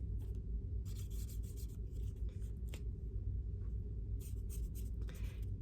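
A pencil or shading tool rubs by hand across a paper card in short scratchy bursts, close and quiet over a low background hum.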